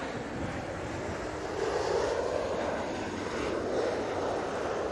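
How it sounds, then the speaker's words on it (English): Ryanair airliner touching down at Manchester Airport, a distant, steady engine roar with wind buffeting that swells slightly midway, with no voices. "decent landing there from the Ryanair"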